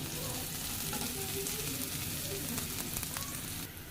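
Onion sizzles steadily in hot oil for the dish of potato and vegetables, a soft, even crackle and hiss that continues throughout with faint scraping.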